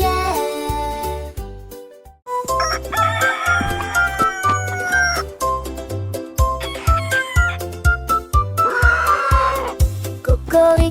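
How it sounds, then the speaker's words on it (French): Rooster crowing within a bouncy French children's nursery song, blended with steady rhythmic music and bass beats throughout; the crow is part of the tune rather than standing alone. "Cocorico s'est réveillé le premier"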